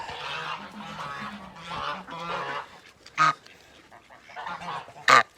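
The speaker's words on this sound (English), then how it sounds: "There's an African goose." An African goose honking among domesticated farm fowl, a run of loud nasal honks close by with two sharper, louder calls near the end.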